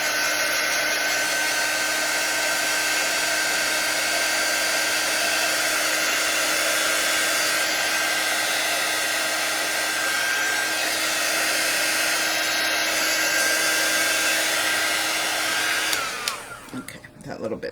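Hair dryer blowing on a hot-glued cinnamon stick Christmas tree, a loud steady whooshing roar running continuously for most of the clip before cutting off near the end, with no speech.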